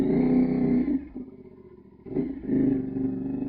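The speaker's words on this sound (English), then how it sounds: "put a new KO Lightning exhaust on it" A 2025 CFMoto 450SS motorcycle with a KO Lightning exhaust revs hard, drops to a low idle for about a second, then roars back up, loud and close.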